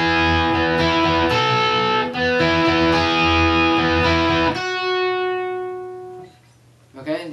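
Guitar plays second-verse chords, steady strummed chords ringing for several seconds before a sustained chord decays and fades near the end, close and clear.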